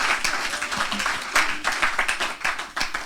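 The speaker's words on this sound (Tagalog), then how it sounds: "Isang pinakamalakas na palakpak." A church congregation applauding, dense sustained clapping from many hands in a room, fairly loud and steady with slight swells.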